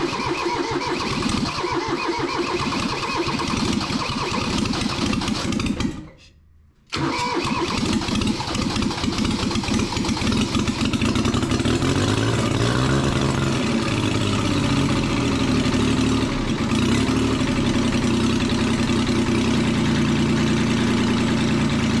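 An old Kubota diesel tractor salvaged from a scrapyard cranks and fires, then keeps running in a loud, steady idle. A brief silent gap breaks it partway through, and the engine dominates throughout with no talk.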